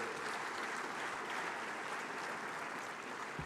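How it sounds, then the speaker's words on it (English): Steady, fairly faint applause from a large conference audience at an international banking annual meeting, a continuous even wash of clapping with no voices over it. "Please, another resounding round of applause."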